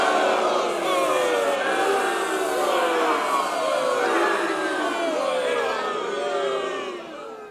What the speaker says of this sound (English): whenever I think of booing, I think of this